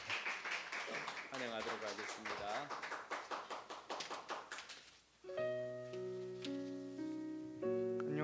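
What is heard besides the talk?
congregation applauding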